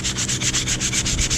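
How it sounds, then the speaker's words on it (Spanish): Sandpaper for wood rubs back and forth over the wooden handle of a freshly fitted garden shovel. The strokes are steady and rhythmic, close and continuous, and no one speaks. "Ahora con una lija para madera"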